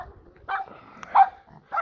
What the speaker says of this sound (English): Silly puppy.